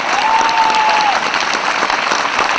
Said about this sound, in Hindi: ये कमजोर तालियां थी साहब